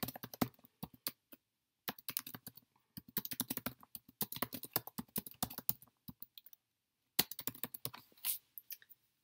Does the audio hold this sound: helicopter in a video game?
no